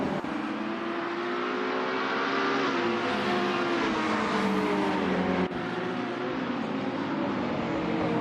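GT3 race cars, including a Castrol Audi and a Ferrari, roaring past on a circuit, loud sustained engine howl with pitch shifts as the cars pass close by, no talk.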